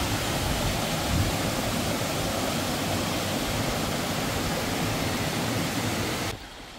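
A waterfall in the Naeyeonsan valley, one of its twelve falls, roars as a steady broadband rush without a break, loud and close, before dropping off sharply near the end.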